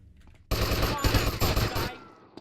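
Sustained burst of automatic gunfire in GTA Vice City, loud and dense for about a second and a half, with a few sharp shots standing out and a quieter tail.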